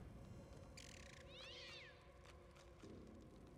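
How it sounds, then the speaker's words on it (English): A cat meows within a video game, Divinity: Original Sin 2, two drawn-out mewing calls in close succession over a steady droning game soundtrack, moderately loud and with no talk over it. "I heard a cat."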